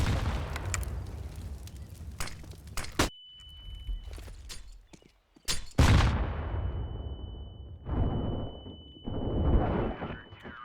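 Flashbang and Molotov blasts in a shooter video game, with sharp booming bursts, a sudden cut to near silence with a thin steady ringing tone, then further loud rumbling explosions.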